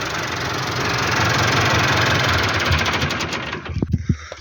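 A loud tractor engine runs with a steady, throbbing drone, then cuts out near the end into a few knocks and thumps.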